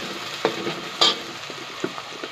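Vegetables with green onion fry in a pan, a soft steady sizzle broken by a few sharp scrapes and knocks of stirring, close and moderately quiet, with no talking.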